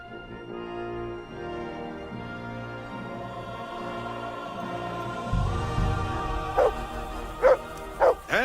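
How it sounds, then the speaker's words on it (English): A dog barks a few times near the end in the video game Kingdom Come: Deliverance, over a steady backdrop of droning tones and low rumble. "I assume you can hear that damn dog of yours barking."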